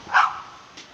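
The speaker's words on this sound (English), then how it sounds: "Cute little dog." A small dog in Benidorm gives a single short, sharp bark nearby, followed by a faint second yip, otherwise quiet.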